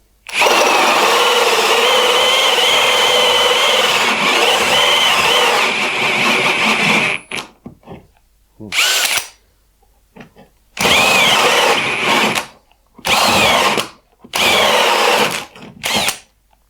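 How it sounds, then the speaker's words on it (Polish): Cordless drill driving a 51 mm Viking hole saw through scrap pallet wood: a loud, continuous whining motor roar with cutting grind for about seven seconds, then several short separate bursts of drilling with silent gaps between. "Zobaczymy jak to wyjdzie i jak poradzi sobie nasza wkrętarka."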